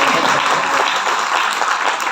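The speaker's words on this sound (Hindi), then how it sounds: "आप लोग से मैं रिक्वेस्ट करता हूँ कि बबलू जी के लिए तालियां हो।" An audience gives a dense, steady round of applause, many hands clapping together at close range with no one speaking.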